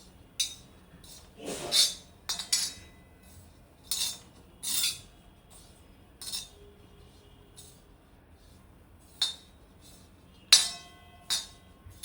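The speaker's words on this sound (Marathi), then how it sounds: "थोडंसं लालसर रंगापर्यंत आपल्याला हे खोबरं व्यवस्थित भाजून घ्यायचं आहे" Grated coconut is dry-roasted in a pan over a medium flame, with scattered light metallic clinks and scrapes from stirring that come at irregular intervals and sound faint and close.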